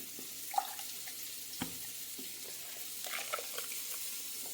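Kitchen tap running while water is taken for a prawn curry on the stove: a faint steady stream with small splashes and clinks, quiet and unaccompanied by talk.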